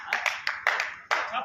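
An audience at a Hindi kavi sammelan poetry recital claps in a short burst of a few sharp, irregular hand claps, close and moderately loud.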